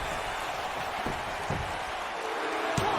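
A wrestling arena crowd in WWE 2K19 gives a steady roar of cheers and applause, a continuous wash of noise with a few sharper claps and no clear voices.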